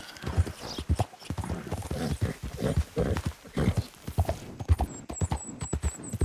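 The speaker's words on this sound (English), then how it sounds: "Whoa! Horse bounding!" Rapid rhythmic hoofbeats of a galloping horse in Red Dead Redemption II, loud and close, with a brief neigh and a repeating high electronic chime near the end.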